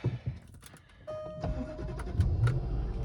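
Engine of a 2003 Ford Thunderbird started with a push button, a brief whirring crank around one second giving way to a steady idle that runs to the end, with a few small clicks and cabin noises near the start.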